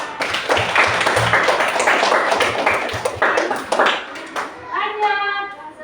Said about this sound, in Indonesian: tepuk tangan kelompok 4